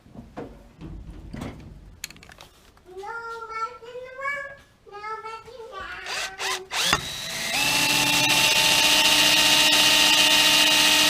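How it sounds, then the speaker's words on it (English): After a few knocks and quieter tonal sounds, a power drill whirs up loudly and keeps running in a steady, high whine, drilling a hole during a low-mount turbo scavenger pump install. "So I'll drill a hole here."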